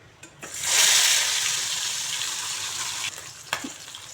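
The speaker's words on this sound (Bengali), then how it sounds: "ইলিশ মাছ ভেজে নিচ্ছি খিচুড়ি দিয়ে খাওয়ার জন্য।" Hilsa fish frying in hot oil in a home kitchen, a loud, steady close-up sizzle that flares up after a brief quiet start and keeps crackling for several seconds with no one speaking.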